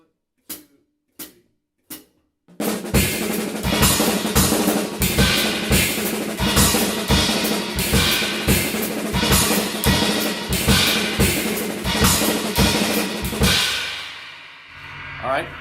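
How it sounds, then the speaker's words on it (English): A drummer alternates strikes between a crash and a splash cymbal, after a few sparse opening hits settling into a steady, loud, bright wash of regular cymbal accents that rings out and fades at the end. "So I'm going to do one of the notes on the crash and one on the splash"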